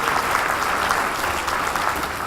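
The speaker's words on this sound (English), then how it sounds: "another round of applause for our entertainers, Schaumburg Youth Quartet" An audience at a volunteer reception gives a round of applause for the Schaumburg Youth Quartet, a steady, moderately loud burst of clapping lasting a couple of seconds.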